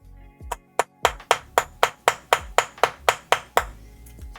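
A rubber mallet tapping a bent metal piece flat on a desk, about a dozen evenly spaced, crisp knocks in a steady rhythm, close and fairly soft with no talk.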